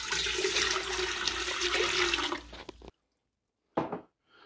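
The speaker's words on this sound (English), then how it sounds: "And all I do, I'm going to pour this in." Water pours into a large pot meant for boiling about three dozen large eggs, a loud steady rushing splash lasting nearly three seconds that stops abruptly, followed by a brief second splash.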